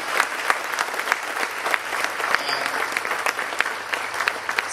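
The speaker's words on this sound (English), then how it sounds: "Give the Lord a clap of praise." A church congregation in Papua New Guinea claps in praise. Many hands beat a steady, loosely rhythmic applause that carries on throughout, with a faint voice underneath.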